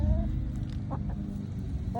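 Chickens cluck in short, close bursts over a low, busy background murmur.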